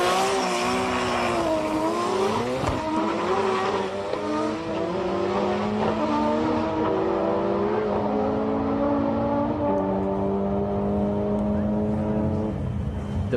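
Datsun 260Z with a transplanted RB26 engine in a drag race at Sendai Highland, revving loud and close with rising, climbing harmonics through hard acceleration, engine note sustained throughout.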